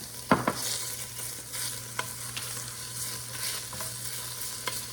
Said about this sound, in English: Now we have 4 tablespoons of bacon. And we are going to brown this up.